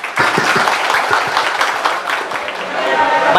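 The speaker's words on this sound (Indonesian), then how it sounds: "Tepuk tangan." A workshop audience at an Islamic school event breaks into steady applause, a dense wash of many hands clapping at moderate loudness with faint chatter underneath.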